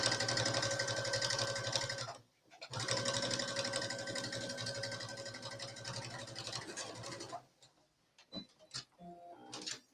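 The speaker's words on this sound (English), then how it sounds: "I'm almost done top stitching my hem." Sewing machine running steadily while top stitching a skirt hem, a loud continuous whirr for about two seconds, a brief stop, then another long run and a few short bursts near the end.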